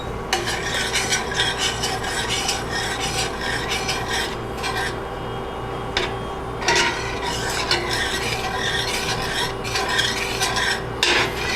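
A spoon scrapes and stirs onion maple preserves with pectin in a pot, a steady close rasping rhythm of repeated strokes with a few brief pauses.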